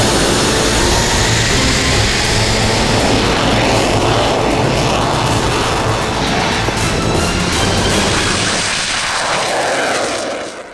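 An IDF Ching-kuo fighter jet's engines running at high power, a loud, sustained roaring blast with broad rumble and hiss, close and steady throughout before easing slightly at the very end.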